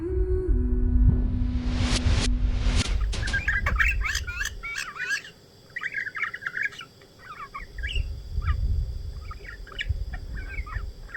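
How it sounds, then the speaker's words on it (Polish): Morning birdsong from blackbirds near Spitzkoppe in Namibia: repeated chattering calls over a steady low rumble, loud and fairly close, with no talk. "Poranek z kosami, ichniejszymi kosami"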